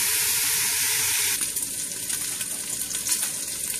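Bacon sizzles in a pan as its fat renders, starting as a loud, bright hiss that settles into a softer crackle.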